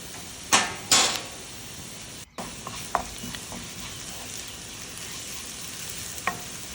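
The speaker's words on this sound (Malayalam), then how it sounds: "ഉപ്പും കൂടി ഇട്ട് നല്ലോണം ഒന്ന് വഴറ്റിയെടുക്കുക." Onions and salt sauté in a pan, a soft, even sizzle beneath a couple of louder early scrapes and occasional faint taps of a spatula.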